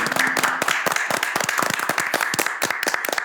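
A lecture audience bursts into sustained applause for a professor, dense sharp hand claps continuing steadily for several seconds.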